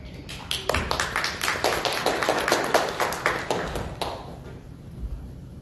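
A church congregation claps for a speaker at a Sunday morning service, a dense, steady patter of many hands close by that fades out after about four seconds.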